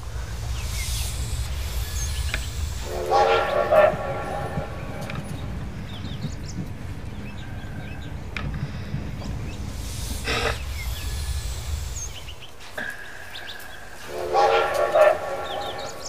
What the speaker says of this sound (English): Now he goes on the train from his mom and dad.